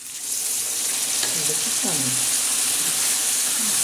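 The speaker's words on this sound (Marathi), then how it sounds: "असं चांगला तडका देऊन घ्यायचा" Tadka for moong dal with turmeric and salt in hot oil, a loud, continuous close sizzle and hiss, with a few brief clinks and scraping stirs partway through.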